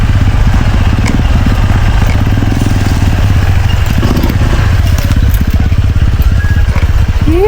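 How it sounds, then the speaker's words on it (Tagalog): A motorcycle engine idles loudly and close by, with a steady rapid clattering throb that runs unbroken from start to finish. "Pati yung boses ng ating motor, kilala nila."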